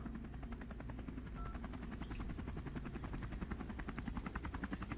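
A helicopter coming down to land, its rotor chopping in a fast, steady rhythm that sits close and loud beneath a low engine drone. The beat strengthens toward the end.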